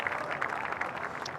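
A few light hand claps from a golf commentator in a broadcast booth at the PGA Championship, soft and quick in a short, fairly even patter.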